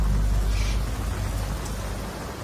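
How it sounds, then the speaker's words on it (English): Heavy rain pours steadily in Australia, a dense continuous hiss with deep low rumble, loud and unbroken with no voices. "Heavy rain has brought relief to some areas"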